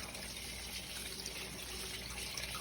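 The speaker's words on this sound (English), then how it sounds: "now we're just leaking out the top here. But it's still bubbling" Liquid bubbles and trickles from the top of a turbocharged Mustang engine being readied for the track, a constant close, soft watery hiss with no pauses.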